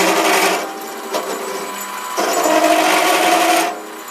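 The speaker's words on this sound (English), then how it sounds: "So we'll bring this up to around 700 or 800 RPM, and I'm using the compound feed to make the cut." SIEG 7x14 mini lathe running at around 700 to 800 RPM cuts with the compound feed, giving a near, uneven grinding and scraping whir that surges and eases in short bursts.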